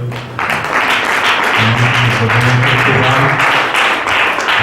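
A church congregation at a French-language seminar applauds and cheers in praise, a dense, steady wash of clapping mixed with voices that fills the space loudly from start to finish.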